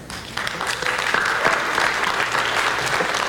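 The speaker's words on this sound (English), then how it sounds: "Great applause to our high schools." A school district meeting audience claps for its high schools, a dense steady round of applause that swells quickly and holds for a few seconds.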